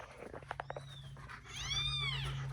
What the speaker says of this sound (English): Just found out we got some more kittens.